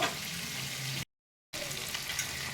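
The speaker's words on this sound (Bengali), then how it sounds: "এবার ভালো করে একটু মশলাটা কষিয়ে নেব" Spice masala with onion, garlic, ginger and nuts frying for a rohu fish curry, a dense steady sizzle that cuts out completely for half a second, then resumes at the same level.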